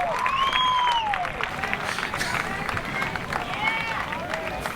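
A crowd at a high school baseball game between Quincy and North Quincy cheers and claps steadily after a run scores, with whistles rising above and a commentator speaking over it.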